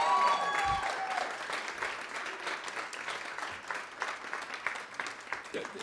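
An audience at a college ribbon-cutting and award ceremony applauds an introduction, with dense sustained clapping that slowly thins out as it continues.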